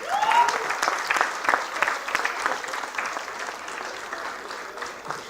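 Audience applause at a university convocation, dense overlapping claps from a large crowd that stay strong at first and then ease slightly over several seconds, heard in a big hall.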